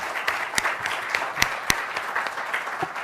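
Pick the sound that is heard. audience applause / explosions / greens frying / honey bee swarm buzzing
audience applause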